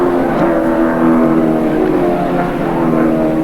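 AMSCAR race cars at Amaroo Park in 1989 race down toward a corner, a steady, loud drone of engines holding for the whole stretch with no clear gaps or let-up.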